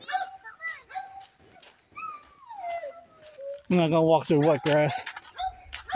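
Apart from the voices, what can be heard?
dog barking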